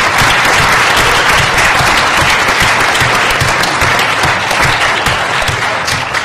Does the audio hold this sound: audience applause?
yes